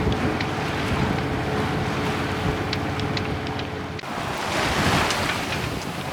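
A sailing boat heads out of Portsmouth harbour entrance into the Solent in bumpy conditions with the jib up. Steady wind rush and breaking waves fill the scene continuously, with no voices.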